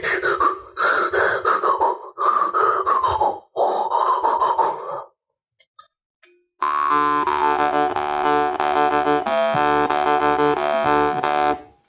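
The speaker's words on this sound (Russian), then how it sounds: "вся вот эта сложная ритмическая конструкция задается за счет дыхания. Без варгана это делается вот так." Rhythmic, forceful breaths in and out, close and loud, tracing a country-style jaw harp pattern without the instrument for about five seconds; after a short silence a steady, buzzing jaw harp drone takes over to the end.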